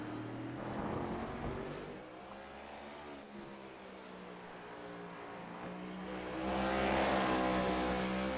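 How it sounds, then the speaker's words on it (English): A race car in a GEARS chase race at Road America accelerates along the track, its engine a steady, moderately distant roar that swells louder toward the end, with no talk over it. "see if Huggins can put down a lap in this number 8 car"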